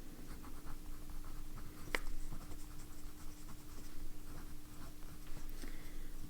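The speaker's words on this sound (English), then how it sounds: "I'm going to also go ahead and do a writing sample of this one." A Parker 51 fountain pen scratches softly across paper in short, continuous writing strokes, close and quiet, with a steady low hum in the background and one sharp tick near the start.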